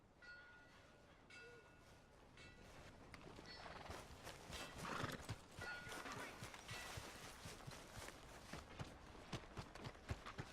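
A horse in Red Dead Redemption 2 clip-clops along, its hoofbeats growing louder and quicker into a gallop with a neigh partway through, set against faint game ambience and no speech.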